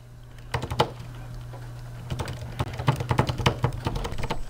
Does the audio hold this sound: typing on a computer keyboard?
yes